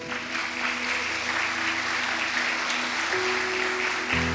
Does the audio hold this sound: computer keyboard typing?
no